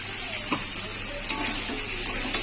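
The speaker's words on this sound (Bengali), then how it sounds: "এটাকে ভালো করে আমি কষিয়ে নেবো।" Spice paste of ginger, cumin paste, chili powder and green chili being sautéed for a rui fish curry with potato and pointed gourd, a steady close sizzle with occasional soft stirring scrapes.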